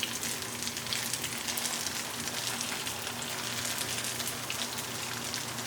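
Vegan meatballs sear in hot oil in a pan, giving a steady, dense sizzle and crackle that stays even and close, with no talking.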